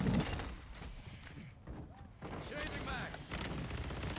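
Rapid TAQ-56 rifle fire in Modern Warfare 2, a run of sharp close gunshot bursts across the whole stretch with loud game action mixed in.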